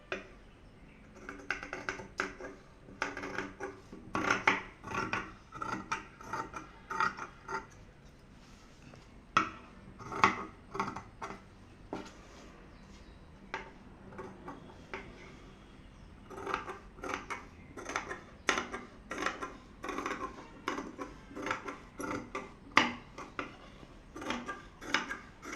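Scissors snip through blouse back-piece fabric along marked lines in a series of short, crisp, repeated cuts, some in quick bursts with brief pauses between, close and fairly quiet with faint handling of the cloth.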